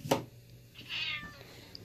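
A house cat gives a single short meow at close range after a sharp click, the room otherwise quiet.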